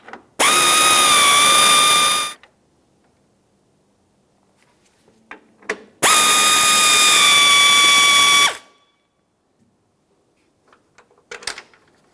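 A tool removes 10mm bolts from the grille of a 2009-2019 Ford Flex, in two sustained whirring bursts of about two seconds each. Quiet pauses with a few faint clicks separate the bursts.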